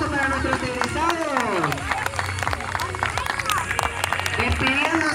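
A crowd applauds graduating students at a school ceremony, clapping mixed with cheering and busy crowd chatter, while voices talk loudly near the recorder and someone speaks over the noise.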